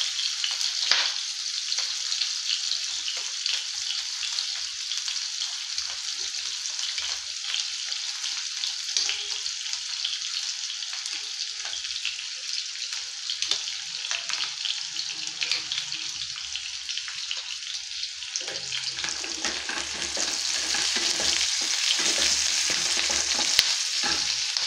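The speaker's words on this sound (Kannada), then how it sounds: "ಈರುಳ್ಳಿ, ಬೆಳ್ಳುಳ್ಳಿ ಹಾಗೆ ಕರಿಬೇವಿನ ಸೊಪ್ಪು ಸ್ವಲ್ಪ ಫ್ರೈ ಆಗಬೇಕು." Onion, garlic, curry leaves and tomato sizzle steadily in a pan, a close, continuous frying hiss with occasional stirring scrapes, growing a little louder near the end.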